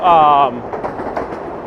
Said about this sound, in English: That was the Long Island Railroad.